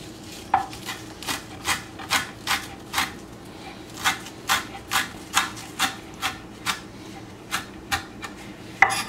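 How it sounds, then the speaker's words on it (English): A knife chops through a small bunch of parsley and a few basil leaves on a board in a steady, even rhythm of about fifteen crisp, close strokes, with quiet kitchen background between them. "A little bunch of parsley and just few leaves of basil. It will give absolutely amazing taste. Let's chop it together."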